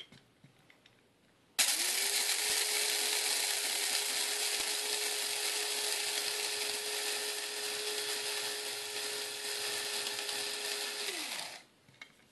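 Electric coffee grinder grinding coffee beans, a steady loud whirring drone that starts abruptly, holds for about ten seconds and then winds down, close and alone.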